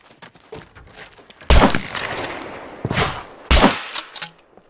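MP5 gunfire in the game SCUM: several sharp, loud shots burst out in separate bursts a second or two apart, each with a ringing tail, amid scattered clicks and handling noises.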